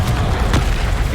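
The Confringo explosion spell goes off in a Harry Potter video game on PC, a loud, dull booming blast with rumbling bursts filling the short moment.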